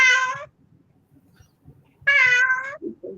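Two loud, close meows from a cat, the second longer and drawn out, with quiet rustling between them and a short murmur at the end.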